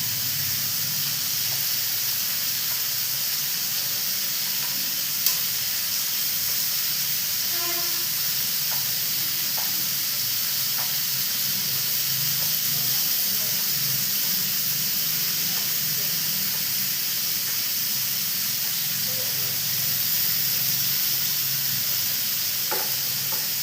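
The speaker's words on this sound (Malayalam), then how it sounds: "ആദ്യം ഇട്ട മീനൊക്കെ ഒരുവിധം ഇങ്ങനെ പൊരിഞ്ഞ് വരുമ്പോഴത്തേക്ക് നമുക്കതൊന്ന് മറിച്ചിടാം" Prawns fry in oil in a pan for a prawn roast, a continuous close hiss and sizzle with occasional faint stirring clicks and scrapes.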